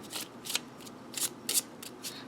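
Lenormand oracle card deck (1889 edition) shuffled by hand alone, a run of soft riffling, rustling bursts in an uneven rhythm, close and fairly quiet.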